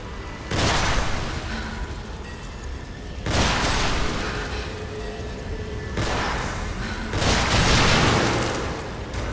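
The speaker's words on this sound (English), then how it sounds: "you can actually chain them together and get multiple explosions from one thing" Loud chained explosions in the video game The Evil Within, three big booming blasts spaced a few seconds apart, each swelling into a long rumbling roar with no talking.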